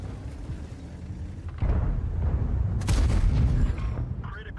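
A heavy tank cannon booms twice in a World of Tanks battle with the AMX 30B, each deep blast landing with a broad rumbling thud and a shot scoring a critical hit.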